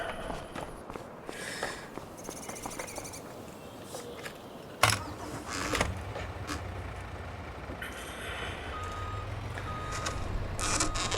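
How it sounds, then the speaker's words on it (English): A lorry reversing in the video game Farming Simulator 25, with steady repeating high warning beeps over engine rumble, a sharp thump midway and a hiss like an air brake, without speech. "Let's move the lorry out of the way."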